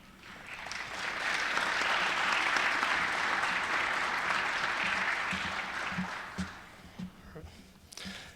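An audience at an Air Force JROTC change of command ceremony breaks into sustained applause that swells, holds, then tapers off, with a few louder claps and low sounds near the end.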